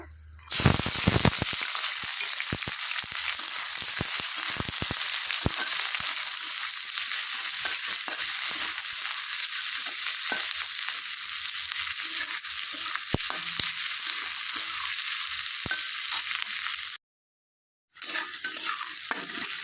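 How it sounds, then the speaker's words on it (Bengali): Onion, garlic and green chili fry in a pan over nigella seeds and dried chilli, giving a loud, continuous sizzle with frequent scraping stirs, close up, briefly dropping to silence near the end and with no speech. "পেঁয়াজটা একটু ভাজা ভাজা করে নিতে হবে"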